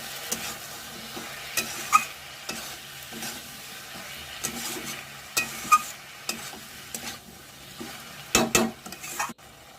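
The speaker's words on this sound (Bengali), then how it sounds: "দিয়ে এবার ভালো করে মিশিয়ে ঢাকা চাপা দিয়ে কিছুক্ষণ রান্না করতে হবে এটা" Grated ginger and cumin stirred into bottle gourd cooking with mung dal in a pan, quiet frying broken by scattered clinks and scrapes of a spoon against the pan, louder clatter near the end, no speech.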